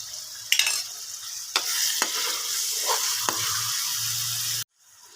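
Stuffed karela frying in a pan, a steady sizzle with several sharp scrapes and clanks of stirring, loud and close, cutting off abruptly near the end.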